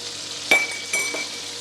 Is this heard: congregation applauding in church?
no